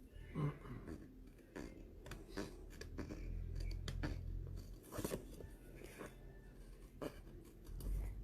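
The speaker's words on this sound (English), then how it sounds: "I'm just going to carry on with my scissors." Scissors snip through card as a papercraft card is cut out, a quiet run of close, irregular crisp cuts and rustles with short pauses between them.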